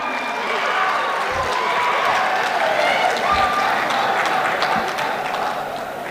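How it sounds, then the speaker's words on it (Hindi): Steady, dense applause from an audience at a poetry gathering at Anwar Ul Uloom College, Mallepally, Hyderabad, rolling loudly and continuously for several seconds with a faint murmur of voices underneath. "आप सब ने मेरे आने पर ये जो घनघोर तालियां बजाई हैं"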